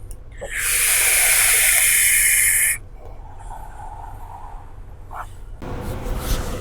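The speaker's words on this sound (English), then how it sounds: "It's a smooth vape. It's not like turbulent or gargly or anything like that." A long draw is pulled through a SMOK MAG vape kit, a loud smooth airy hiss lasting about two seconds, followed by quieter breathing and a faint exhale.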